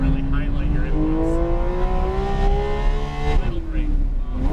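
A Porsche 911 GT3 RS engine drones steadily on a race track, its pitch rising slowly before dropping sharply and climbing again, loud and close from inside the car while a voice talks over it.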